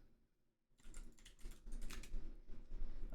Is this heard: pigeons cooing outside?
no